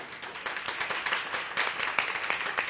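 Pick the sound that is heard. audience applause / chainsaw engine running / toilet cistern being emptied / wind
audience applause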